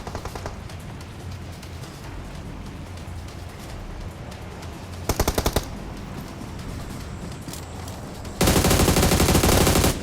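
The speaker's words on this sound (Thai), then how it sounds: "มันยิงเราแล้วอ่ะ เขาเอาเราแล้วอ่ะ" Automatic gunfire in the mobile battle-royale game PUBG Mobile: a short rattling burst midway, then a loud, sustained close-range volley to the end over a steady background hum.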